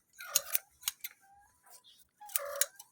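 Hand scissors shearing wool from a sheep, close crisp snipping in short uneven bursts of one or two cuts with brief pauses between, clear and without talk.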